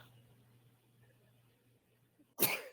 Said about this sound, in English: I've got the sneezes